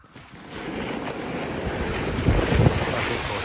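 A sled slides down snow on Mount Chokai in winter, giving a continuous rushing hiss that swells in loudness, mixed with heavy wind noise and no talk.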